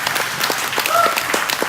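Audience applause breaks out at a charity fundraiser auction: a crowd claps steadily with distinct individual claps audible, and a brief tonal chirp in the middle.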